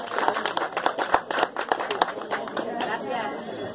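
Audience applause for the winners at an awards ceremony after a Christmas charity race in Tonalá, scattered claps mixed with crowd chatter, moderately loud throughout and fading into murmuring voices near the end.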